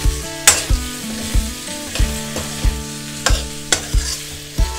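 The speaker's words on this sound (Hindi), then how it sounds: "इसमें थोड़ा सा इसको फ्राई करेंगे" Boiled taro pieces fry in a hot pan while a utensil stirs them, giving a steady sizzle broken by regular scraping knocks against the pan, loud and close with no voices.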